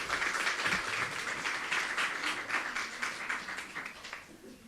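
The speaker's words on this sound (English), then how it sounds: "join me in welcoming and giving Patrick an applause" Audience applause at a Washington, DC small business grant awards event, welcoming a grant recipient to the podium; steady, moderately distant clapping from a crowd that fades toward the end.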